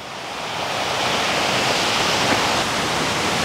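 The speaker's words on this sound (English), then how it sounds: "bit of a waterfall." A small waterfall on a river in Chiang Mai, Thailand pours in a dense, steady rush of water, heard close and loud throughout.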